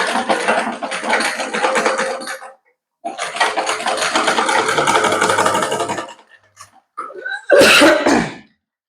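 A sewing machine stitches down a folded fabric hem in two long steady runs, near and loud, with a brief pause between them and a short sharp clatter near the end.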